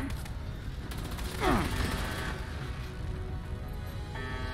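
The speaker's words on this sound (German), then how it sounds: "Was zur Hölle ist da explodiert? Die Tonne?" A barrel blows up in Fallout 76 with a sudden loud burst and a short crackling tail. It sits over a continuous bed of game noise, and a softer mechanical clatter follows near the end.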